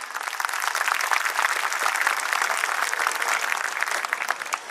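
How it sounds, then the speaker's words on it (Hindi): An audience at a school annual day performance by pre-primary classes bursts into loud, sustained applause, a thick continuous roar of clapping that stays level throughout before dropping off at the very end. "तो आइए एक बार फिर से जोरदार तालियों से इनका उत्साह बढ़ाएं।"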